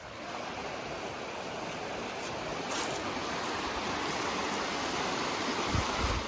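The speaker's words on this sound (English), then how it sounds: "somewhere next to this creek over here" Creek water flowing beside a forest road on the Mid-State Trail, a steady, full rushing wash close by with no talking.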